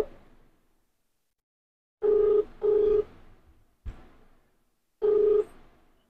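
A phone call is being placed, and the line answers with a ringback pattern of paired tones followed by a pause and another tone, clear and close with brief clicks between the rings.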